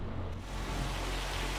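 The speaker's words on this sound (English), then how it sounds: "And of course it's raining" Steady rain in the Farming Simulator 25 video game, a soft continuous hiss of falling water with a low rumble beneath, fairly quiet and unbroken, with no talk.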